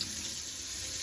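Warm tap water runs steadily into a tub or sink for bathing a small dog, a continuous loud even rush of splashing water with no pauses.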